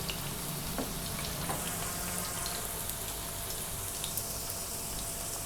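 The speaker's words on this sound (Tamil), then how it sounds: "இப்போ இது வந்து நல்லா பொரியட்டும்." Chicken pieces for orange chicken fry in hot oil, a steady, close crackling sizzle with scattered pops and no talking.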